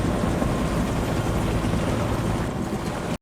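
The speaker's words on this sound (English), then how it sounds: "A helicopter drop off." A helicopter arriving for a patient drop-off in the hospital drama The Pitt: steady, loud rotor and engine roar with a dense rumble throughout, no speech.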